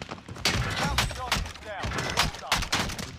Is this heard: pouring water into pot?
no